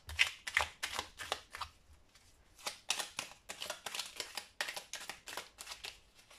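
Angel oracle cards being shuffled, a run of crisp riffling flutters in quick bursts with short pauses between them, close and fairly quiet with no talking.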